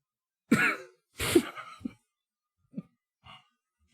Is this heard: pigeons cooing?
no